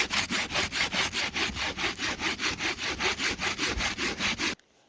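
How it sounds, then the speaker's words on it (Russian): Large log being cut with a hand saw outdoors in winter, a steady rhythm of about twenty rasping back-and-forth strokes, close and loud with no voices, ending abruptly in near silence. "Пилит прекрасно, вот такие большие бревна, на ура"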